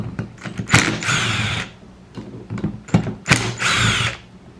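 Two bursts of power driver whirring with clicks and thunks between them, loud and close, as T27 Torx screws come out of the carburetor of a Stihl 019T chainsaw.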